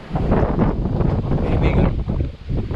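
Strong wind during bad weather in Saudi Arabia, roaring and buffeting across the microphone as a continuous, loud rush with gusty swells.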